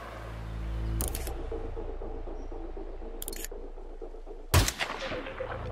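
Three sharp gunshots in Hitman 2, evenly spaced over a few seconds. The last is the loudest and is followed by a brief low rumble over quiet ambient game sound.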